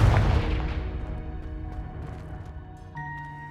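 A Confringo explosion spell in Hogwarts Legacy lands as a single loud boom at the start, then decays into a long ringing, rumbling tail. A faint tonal chime rises near the end.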